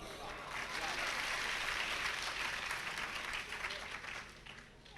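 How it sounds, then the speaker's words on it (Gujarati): Audience clapping at a Gujarati poetry recital and book launch, a dense steady burst of applause from a seated crowd that slowly thins toward the end. "એ બોલાય અને તરત તાળી પડે, વારંવાર તાળી પડે"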